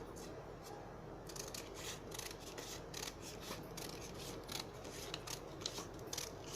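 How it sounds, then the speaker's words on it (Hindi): Scissors snipping yellow paper into long strips about one centimetre wide for a newspaper wall-hanging craft, giving a rapid run of crisp, close cuts over a faint background. "1 सेंटीमीटर चौड़ी एक इस तरह से लंबी स्ट्रिप्स काट लेंगे, इस तरह से।"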